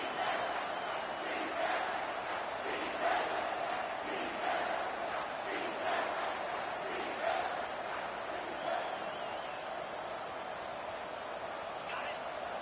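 A big stadium crowd at a college football playoff game roars in a steady, loud wash of noise that swells slightly in waves, while an announcer talks over it.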